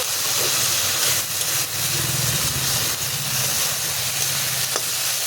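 Okra (vendi) fries in a pan with a loud, continuous sizzle and hiss, broken by occasional light stirring scrapes and a soft tap.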